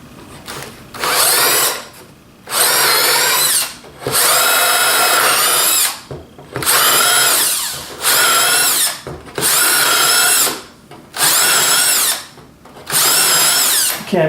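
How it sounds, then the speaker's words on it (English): Power drill boring shelf pin holes into the wooden sides of a TV stand, loud close bursts of high whining drilling, about seven of them, each lasting one to two seconds, separated by short pauses. "I have to cut my holes for my adjustable shelves on both sides."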